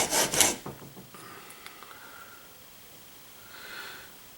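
A chisel is rubbed across a fine-grit sharpening stone. A few quick, loud rasping strokes come first, then softer scattered scrapes, and a faint hiss follows near the end.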